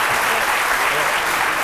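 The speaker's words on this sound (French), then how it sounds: "Et ça s'applaudit." A studio audience claps in a continuous, even burst of applause, loud and close, with no talking over it.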